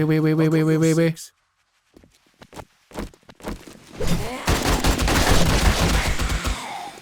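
Rapid gunfire from NPC allies shooting zombies during a horde fight in the survival game 7 Days to Die, a dense run of loud overlapping shots and impacts that builds after a brief pause, with a player talking over it.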